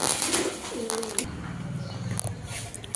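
Bombay pigeons coo with soft, low, rolling calls at close range. Faint background chatter and a voice run underneath.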